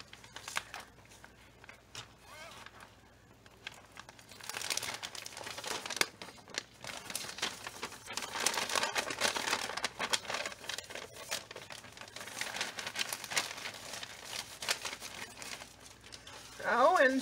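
Paper crinkles and rustles as a mailed envelope is handled, a steady close crumpling that builds after a few seconds and carries on, with a brief louder burst at the end.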